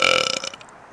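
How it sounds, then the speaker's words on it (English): A single short, loud burp that rasps for about half a second and then trails off into quiet. "I'll burp, and then you show me yours."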